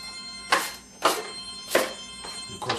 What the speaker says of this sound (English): And of course we get a phone call.